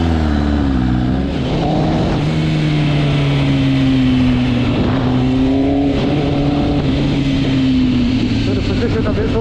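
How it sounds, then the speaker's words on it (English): A 2018 MV Agusta motorcycle engine revs steadily nearby, its loud droning tone rising and falling in pitch across several throttle blips, with a voice speaking briefly over it. "Listen to that rev."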